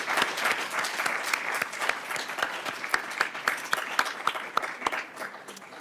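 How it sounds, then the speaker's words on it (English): Audience at an International Writing Program event applauding the organizers, a steady burst of many hands clapping that stays dense and fairly loud throughout, with no talk over it. "So I hope we can all give a round of applause to the organizers."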